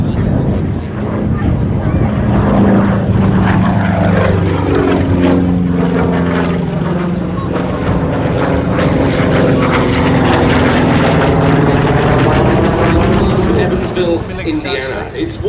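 A Republic P-47D Thunderbolt propeller fighter named Nellie flies past at the Duxford Air Festival, its loud radial-engine drone rising and falling in pitch as it sweeps by overhead, continuous for the whole pass.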